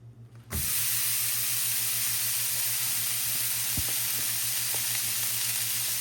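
Bacon strips sizzle in a pan, a steady, close hiss that bursts in suddenly and carries on evenly, with an occasional faint pop or clink and a low electrical hum beneath.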